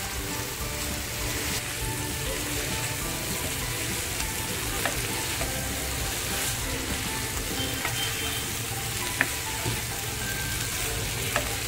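Fried mixed vegetables, later joined by capsicum, are tossed and stir-fried in a hot pan for vegetable Manchurian, making a loud, constant sizzle with occasional utensil clicks and no voices.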